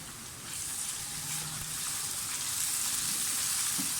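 Minced keema with onion, garlic and ginger paste frying in a pan, a soft steady sizzle that holds fairly quiet and even throughout.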